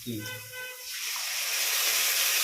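Curry leaves and onion go into hot oil for a bitter gourd and mango curry. A brief voice is followed by a loud, close sizzle that bursts up and keeps hissing steadily.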